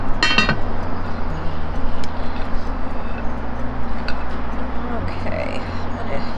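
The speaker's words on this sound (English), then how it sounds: "I'm gonna keep mixing that until like there's no more dry spots in the cornstarch or the sugar" Cornstarch and sugar stirred in a bowl outdoors for a Dutch oven strawberry crisp, with faint clinks and scraping of a utensil against the bowl over a steady low background hum.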